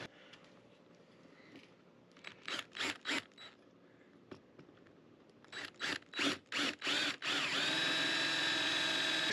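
A power drill driving screws to fit a backup camera mount on a 5x8 cargo trailer, with several short bursts of whirring building to a longer steady run at the end, loud and close.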